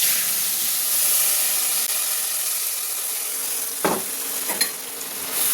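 A paste of coriander leaves, garlic, green chili and nigella seeds sizzles and hisses steadily in a hot kadai, with a couple of brief stirring scrapes near the end and no talking.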